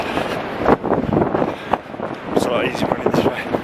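Wind buffets the microphone of a runner on a beach, a continuous rough rumble with gusty surges beneath a man's speech.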